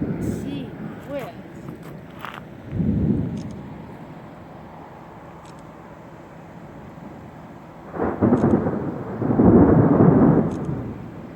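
Thunder from a lightning storm rolls and rumbles in several long, swelling bursts, loud and low, with a quieter stretch between them and faint background rain.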